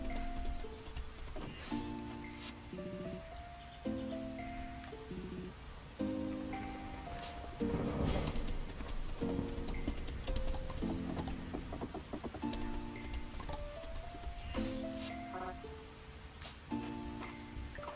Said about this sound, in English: Rainy, stormy days are just the best.